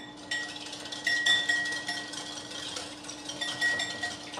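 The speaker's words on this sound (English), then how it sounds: "And then just whisk it all together." Whisking a dressing of yogurt, orange juice, lime juice and brown sugar in a bowl makes light, repeated clinks and scrapes, close but soft, over a steady background hum.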